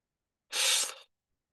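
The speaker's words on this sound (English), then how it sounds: "I am needing to blow my nose again." A single nose blow, a short breathy burst of about half a second, close and fairly loud, with no talking.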